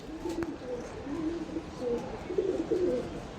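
Giribaz pigeons at a market stall give soft, low repeated coos in short bursts, close by, over a faint murmur of background noise.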